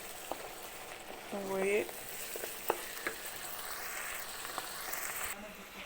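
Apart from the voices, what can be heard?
stirring blanched flat green beans in a pan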